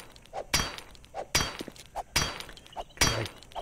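An axe strikes and breaks objects in 7 Days to Die, heard as four loud, sharp cracking impacts with a glassy edge, evenly spaced about a second apart, with softer knocks between them.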